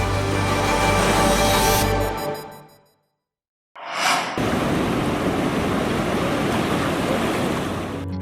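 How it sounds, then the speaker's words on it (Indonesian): Ocean waves crash on the sandy shore of Pantai Paku beach in Lampung, a loud, steady wash of surf that fades to a brief silent gap before the roar of the waves returns. "suara hantaman ombak di pasir pantai seolah melafazkan nada-nada indah yang menghibur telinga"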